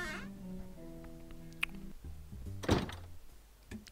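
A door opens in the point-and-click video game Edna bricht aus, heard as a single soft clunk over quiet sustained game tones.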